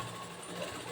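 A sewing machine runs steadily, stitching the back panel of a cross-cut blouse with a quarter-inch seam allowance, a continuous close mechanical whir heard alone for a brief moment.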